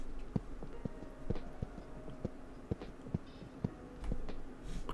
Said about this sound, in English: And then this is the footstep sounds of what it would sound like on concrete.